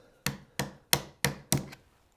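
A hand chisel cutting a groove in wood is struck five times in an even rhythm, each blow a sharp close knock fading quickly, followed by a brief quiet.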